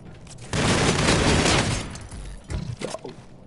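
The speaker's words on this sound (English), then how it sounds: "That's the shotgun." Shotgun in a gun-game shooter lets off a loud, sustained burst of blasts and crackling debris lasting over a second, followed by a few sharper, smaller bangs, close and harsh with no talking over it.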